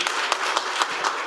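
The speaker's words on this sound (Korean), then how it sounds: "큰 박수 부탁드립니다" An audience at a lecture welcoming a speaker keeps up continuous applause, a steady wash of many hands clapping with faint individual claps poking through, moderately loud throughout the short stretch.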